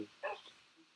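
A single short, faint bark from a dog in the Minecraft video game, one quick yelp followed by a low trailing tone.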